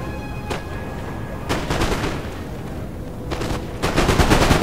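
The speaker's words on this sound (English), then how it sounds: "And we're taking lots of shots at them." Musket volleys crackle in a Napoleon: Total War battle, several dense bursts of rolling gunfire spaced a second or two apart, loud and continuous with a steady battlefield roar underneath.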